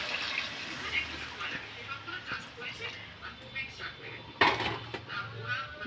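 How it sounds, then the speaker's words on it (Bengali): Water is poured from a container into a pot of simmering fish curry with potatoes, giving a soft splashing trickle that builds into a louder gush near the end, over quiet kitchen background. "এবার জল দিয়ে দেবো।"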